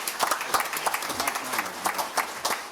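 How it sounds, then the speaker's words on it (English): Brief round of applause at a town first responder awards ceremony, with scattered, uneven claps rising and falling over a few seconds in a room, moderately loud. "Give them a round of applause."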